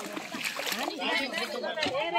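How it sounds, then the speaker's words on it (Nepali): Mud splashes in a flooded rice paddy in Kathmandu, Nepal, as seedlings are transplanted. Continuous wet sloshing and splattering runs under people talking nearby. "हिलो छ्यापा छ्याप"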